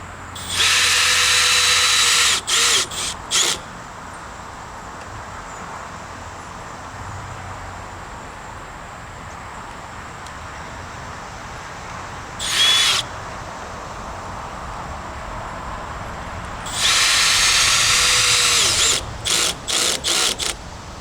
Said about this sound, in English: Go ahead and get some of the screws in there just so that it holds it up.